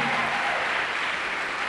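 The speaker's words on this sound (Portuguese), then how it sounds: "pode aplaudir, isso é muito lindo" A church congregation breaks into steady, dense applause during a pastor's sermon, close and continuous throughout, with no voices rising above the clapping.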